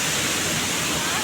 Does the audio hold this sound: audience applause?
no